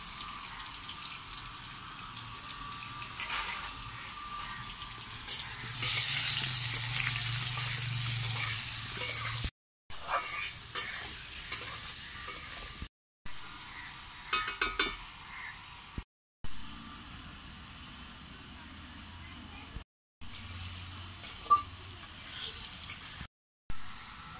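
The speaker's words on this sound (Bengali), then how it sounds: "আলুগুলো খুব ভালোভাবে ভেজে নিয়েছি, এবারে তুলে নেব।" Potatoes frying in a pan with turmeric and chili powder for a chicken dak bungalow curry, a steady close sizzle with stirring scrapes and occasional clinks, broken by several brief cuts to silence, no talking.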